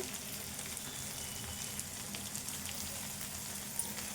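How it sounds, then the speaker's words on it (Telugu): Pieces of okra fry in oil in a pan while okra soup is being made. The sizzle is steady and crackling, close and fairly quiet, and no one speaks over it. "ఇంకా వేగాలి ఈ ముక్కలు"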